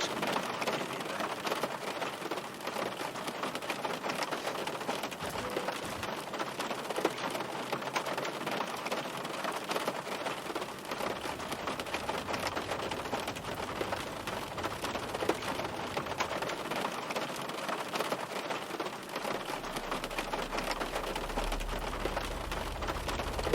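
Heavy rain in the Zibo Mod flight simulator: a dense, steady hiss of rain pattering on the aircraft, continuous and loud throughout with a faint low rumble near the end.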